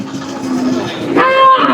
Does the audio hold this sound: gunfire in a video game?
no